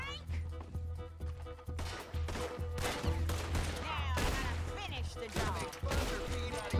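Rapid bursts of Gatling gun fire in the Red Dead Redemption 2 video game, repeated volleys crackling loudly over a steady low musical drone, with people talking over the shooting throughout.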